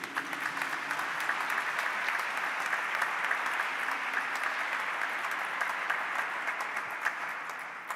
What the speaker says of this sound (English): And let's give another round of applause to these bright young students.